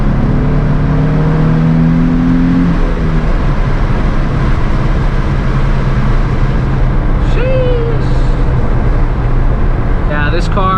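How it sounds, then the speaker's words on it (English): A bone-stock Nissan 350Z with its factory OEM exhaust accelerating on wet backroads, a constant loud, fairly mellow engine drone with droning tones and tyre and road hiss throughout, heard from inside the car. "stock OEM exhaust, it has a nice little tone to it, but it really, you know, it's too quiet"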